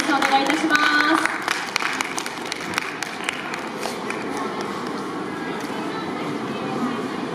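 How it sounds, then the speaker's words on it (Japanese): A large audience at a New Year kids' festival in a shopping mall claps steadily to welcome a yosakoi naruko dance troupe, a dense, sustained patter of hands filling the hall under a voice. "皆様大きな拍手でお出迎えください。"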